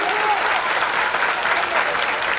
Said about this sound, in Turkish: Kocaman bir alkış, bu yetmez bu güzel söze.